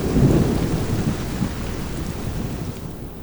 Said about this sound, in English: it starts raining cats and dogs. And nobody likes rain.